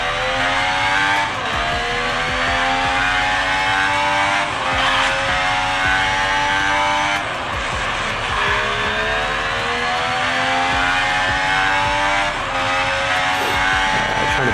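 A Formula 1 race car in the F1 Mobile game on a phone, its engine a loud continuous howl rising through the gears and dropping at shifts, near and unbroken for the whole stretch.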